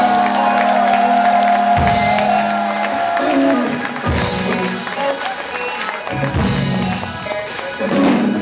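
A crowd applauds and cheers at a live cover festival concert, with steady clapping and whoops over music throughout.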